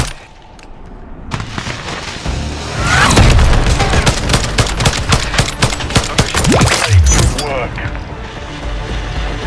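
Rapid automatic gunfire rattles in Call of Duty MW3, dense bursts of close shots with a heavy boom mixed in, building after a quieter start, then thinning out near the end.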